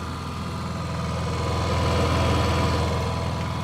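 A Honda EU7000iS fuel-injected 7,000-watt inverter generator idles with no load, giving a steady, close, low mechanical drone with a slight rise in level midway and no talk.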